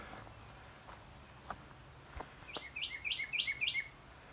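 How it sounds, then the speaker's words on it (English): A bird in a tree near a roadside marsh trail calls in a quick series of five chirps near the end, preceded by a few faint scattered ticks and steps over quiet outdoor background. "I know I have a bird very close to me."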